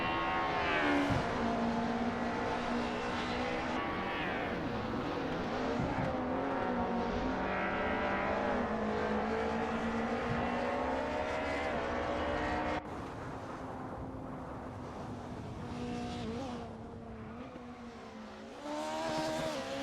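Race cars in an AI racing video game roar around the track, engines droning and shifting pitch as they pass in layered, continuous waves, with faint voices in the mix.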